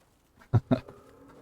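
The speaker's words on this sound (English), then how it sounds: "That's a goat." A goat in the survival video game Icarus gives two short, close bleats in quick succession against quiet surroundings.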